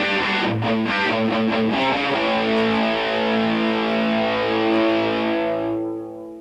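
Distorted electric guitar playing a slow lick, sustained overdriven notes blending into one another at a steady loud level, ringing out before fading at the end, with no voice.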